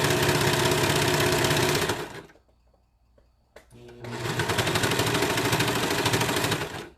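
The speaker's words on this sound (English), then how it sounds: "I'm just going to sew close to the edge, cutting just a tiny bit off" Sewing machine stitching fabric near the edge while making a slouchy beanie, a loud rapid steady clatter that stops for about a second and a half, then resumes just as fast.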